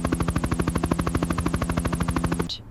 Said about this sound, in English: Tell the helicopter to stand by.